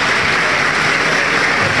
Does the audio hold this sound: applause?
yes